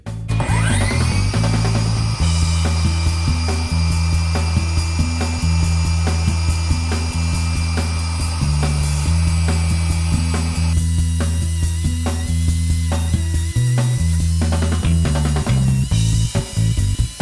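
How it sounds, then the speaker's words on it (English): Table saw ripping 12mm plywood into strips, its motor a loud, steady whine with the blade cutting through wood continuously, briefly easing off between passes before the next rip. "So we'll head over to the table saw and get ripping."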